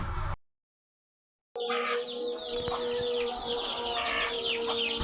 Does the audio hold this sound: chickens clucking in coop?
yes